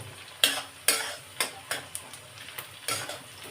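Onions frying in a pan until browned for birista, with a soft background sizzle broken by a series of sharp scraping and clattering stirs of a spatula, about eight distinct strokes, close up and with no voices.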